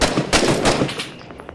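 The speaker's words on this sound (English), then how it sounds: "Hearing shots from the north." Gunshots in the military shooter Six Days in Fallujah, a quick run of sharp rifle shots followed by fainter distant pops, with no talk over them.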